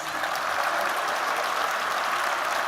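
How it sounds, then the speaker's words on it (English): Sustained audience applause at a fall master's commencement ceremony, steady and even throughout, with a large crowd clapping together. "Let's all give them a round of applause, please."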